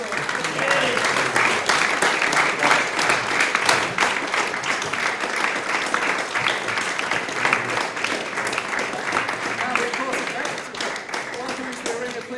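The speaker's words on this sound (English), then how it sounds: "Let's give it a big round of applause." An arena audience applauds after the final of a world amateur 8-ball pool championship, sustained dense clapping at moderate loudness with a voice talking over it.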